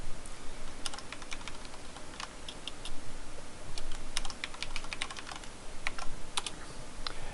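Someone types a password on a computer keyboard: a close run of crisp key clicks, sparse at first, then quicker and denser, with a couple of brief pauses.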